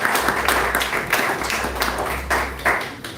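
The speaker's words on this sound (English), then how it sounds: "Let's give him a round of applause" Applause from a live bar audience at a Science on Tap talk as the speaker is introduced, a dense wash of clapping with a steady low hum underneath and a few louder claps rising near the end.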